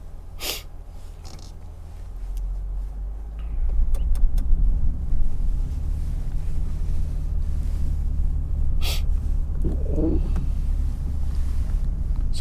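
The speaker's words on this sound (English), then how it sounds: "So crawl control is engaged. All I'm doing is steering. Foot's not on the brakes or the gas pedal." A 2022 Toyota Tundra on BF Goodrich KO2 tires crawls through deep snow under crawl control, its low engine drone steady throughout with scattered sharp clicks and creaks; no one speaks.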